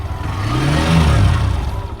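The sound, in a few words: Hero Xtreme 125 R motorcycle revving in first gear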